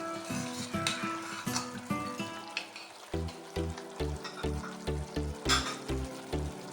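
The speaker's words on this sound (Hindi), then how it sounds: "और इन दोनों चीज़ों को अच्छे से हम भून लेंगे" Tomatoes and yogurt fry in a karahi with a continuous loud sizzle, interrupted by rhythmic scraping and knocking as the mixture is stirred and turned repeatedly against the pan.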